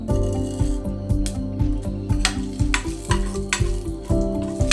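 Mustard seeds and urad dal fry in sesame oil in a pan for a tempering, with a soft continuous sizzle broken by rhythmic scraping strokes of a spoon, fairly close and steady.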